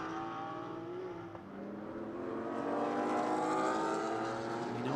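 A Ford Mustang and a Porsche GT4 race car roar down the front straightaway in a GT4 sprint race at Sonoma, with a steady, rising engine drone that swells louder toward the end.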